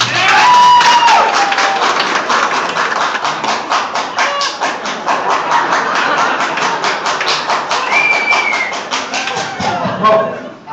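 A comedy club audience at Wiseguys in Salt Lake City claps steadily for about ten seconds, a dense wash of applause with a few cheers and voices rising through it.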